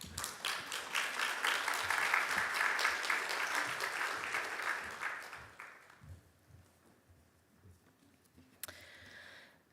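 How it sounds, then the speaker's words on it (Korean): A church congregation applauds to welcome a speaker, a full round of clapping that swells, holds, then fades out after about six seconds, leaving quiet room sound and a brief knock. "박수로 환영해 주십시오"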